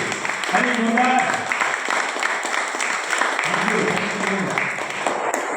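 A crowd at a business meeting in Pombhurna claps steadily for several seconds, a dense wash of hand claps with voices audible beneath it.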